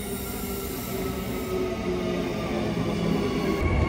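A steady rumble of a train in motion at Elizabeth Quay, Perth, Australia, moderately loud and unbroken, with a high metallic whine above it and no voices.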